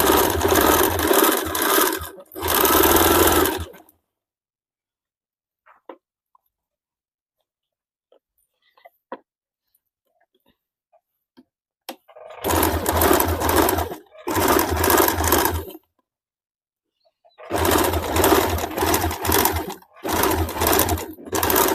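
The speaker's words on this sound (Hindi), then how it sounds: "अभी इसी के ऊपर हम लोग मशीन चला देंगे" A sewing machine stitches along a blouse panel beside the piping in bursts of loud, steady whirring, running in short runs of a second or two separated by long quiet pauses with faint handling clicks.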